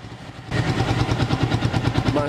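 A Yamaha Vixion motorcycle with an error code 46 fault starts up. After a short crank, the engine catches and settles into a loud, steady, pulsing idle close by.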